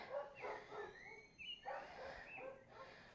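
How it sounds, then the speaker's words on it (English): Several dogs at a home that cares for seven dogs, including three newly adopted puppies, bark and yip in short bursts in the background, moderately distant, with a faint whimpering tone between barks. "you might hear the dogs barking"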